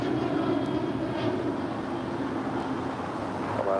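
Jet airliner engine noise at LAX airport, with a Qatar Airways A350-1000 landing on the north side, heard as a steady distant roar and hum without talk.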